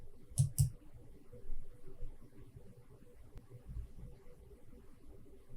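A computer mouse clicked to start a software launcher, two quick close clicks near the start, then faint low room noise.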